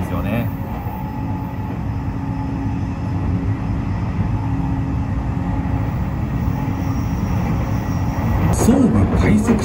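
Sobu Line express track N'EX train running as the Shiosai limited express, passing behind Makuhari rail depot; steady low rumble and rolling wheel noise continue throughout at constant loudness, with a brief brighter clatter near the end.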